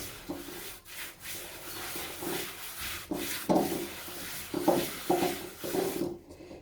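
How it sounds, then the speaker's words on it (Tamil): A cloth is rubbed around an iron kadai to wipe it dry, making a steady scraping, rasping rub with rhythmic strokes that is close and fairly loud and has no talk. "இப்போ இந்த கடாயையும் இதே மாதிரி தொடச்சிடலாம்."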